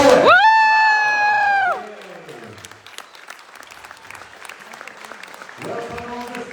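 An audience at an Almaty stage event bursts into applause and cheering, opening with a bright rising whoop-like tone over a dense wash of clapping and shouts that then settles into a softer, scattered clapping and crowd murmur.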